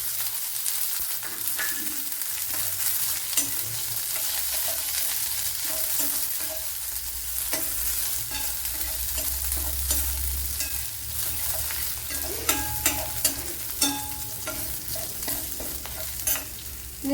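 Crushed ginger, green chillies and small shallots sizzling in a pan, a continuous fry crackle with scrapes and taps of a spoon stirring, moderately quiet and steady, no talking.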